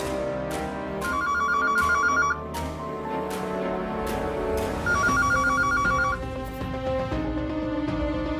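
A telephone rings in a household with a repeating electronic ringtone melody of warbling beeps in two bursts, loud and close, with no talk over it.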